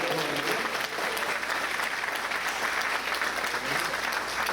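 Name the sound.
church congregation applauding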